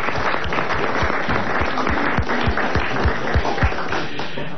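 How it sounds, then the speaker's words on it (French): A studio audience on a French radio comedy show applauds, a dense, fairly loud burst of clapping with heavy, rhythmic low thumps running through it, steady throughout without speech. "applaudissements mérités pour Madame Douchy"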